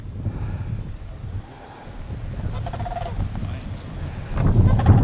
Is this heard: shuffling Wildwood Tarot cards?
no